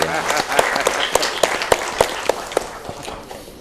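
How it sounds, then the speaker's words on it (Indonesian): Applause at a community empowerment gathering in Brebes, with loud, distinct claps from nearby hands over a thinner spread of clapping that fades toward the end. "Tepuk tangan Pak."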